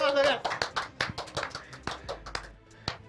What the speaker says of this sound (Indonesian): Silakan tepuk tangan lu.